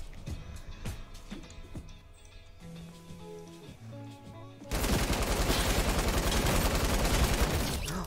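Gunfire in the shooter game Arsenal: a few separate sharp shots ring out at first, then a heavy, sustained barrage of rapid fire takes over for the second half.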